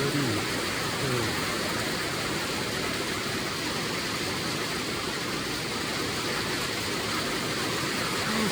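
Heavy rain pounds steadily on the tin roof of a shed, a dense, unbroken roar of drops that stays loud and even throughout with no voices.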